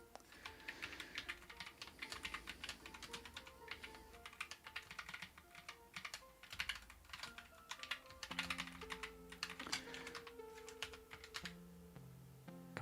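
Keys on a computer keyboard clatter in irregular bursts and short pauses, near and moderately quiet, with faint tonal sounds in the background.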